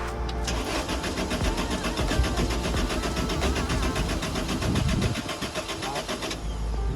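A Lotus engine after injector cleaner cranks with a rapid, rhythmic starter chatter for several seconds, then catches and settles, loud and close.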